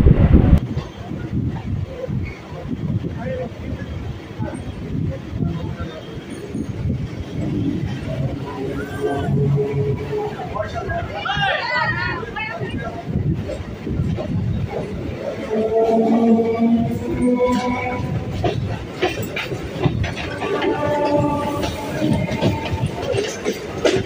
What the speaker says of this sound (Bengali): আর আমাদের ট্রেনটি এখন বালিগঞ্জ স্টেশনের দিকে ঢুকছে।